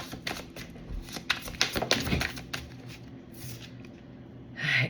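Tarot cards being shuffled by hand, a run of quick riffling bursts and soft slaps, close and moderately loud, with no one speaking.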